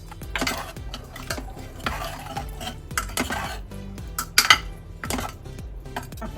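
A spoon repeatedly scrapes and clinks against a pan while jackfruit curry finished with a spoonful of desi ghee is stirred, giving irregular close knocks and metallic clinks with soft liquid movement and no talking.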